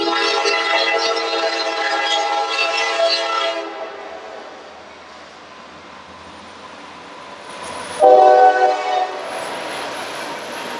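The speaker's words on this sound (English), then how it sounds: "you love the sound of trains?" A train passes close by, its horn sounding loudly in long steady blasts at the start, fading into a low rumble, then a second strong horn blast before the noise trails off.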